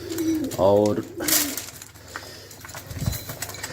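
Pigeons cooing in a home coop, a clear close coo early on followed by softer bird sounds, with someone speaking briefly.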